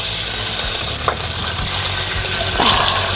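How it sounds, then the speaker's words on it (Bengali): Fish dropped into hot oil in a kadai wok gives a loud, steady, close-up hiss of frying, with a couple of faint knocks partway through. "কড়াইতে তেল দিয়েছিলাম, তেল গরম হয়ে গেছে। এবার মাছটা দিয়ে দিই।"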